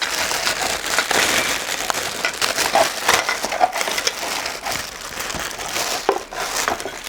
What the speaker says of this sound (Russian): давайте откроем хотя бы один пакет